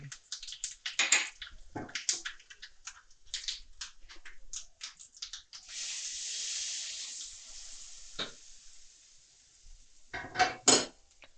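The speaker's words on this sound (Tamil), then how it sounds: "ஸோ இந்த சட்னி வந்து தாளிச்சிடலாம். கடுகு, சீரகம், கருவேப்பிலை, அப்புறம் கொஞ்சம் பெருங்காயம்." Mustard seeds, cumin, curry leaves and a pinch of asafoetida tempering in hot oil for chutney: scattered crackling pops, then a steady spitting hiss that fades into a few last sharp crackles.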